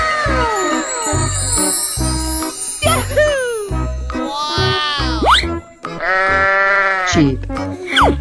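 Sheep bleats in a 3D cartoon animal slide game, repeated wavering cries over a loud, steady, bouncy music track with jingly tones and a sliding whistle.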